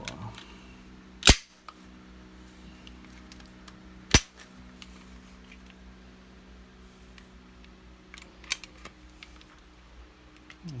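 A Glock 23 pistol is handled and its slide removed, with two sharp metallic clicks standing out and a few fainter mechanical ticks later over a low steady room hum.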